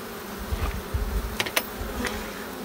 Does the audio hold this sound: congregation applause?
no